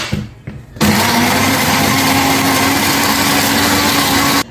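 A mixer grinder blends red lava pizza sauce made with oil, starting abruptly after a few handling knocks and running as a loud, steady whirring drone until it cuts off near the end.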